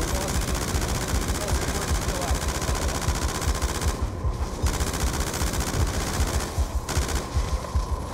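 Light machine gun fire in Call of Duty: Black Ops 2 rattles in long, dense, continuous bursts, loud and close, with a few brief pauses and other combat noise mixed in.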